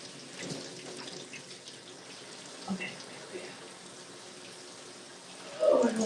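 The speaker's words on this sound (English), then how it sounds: "I am gonna wash my hair" Tap water runs steadily into a sink or tub during hair washing, a continuous close splashing wash with a louder gush near the end and no talk.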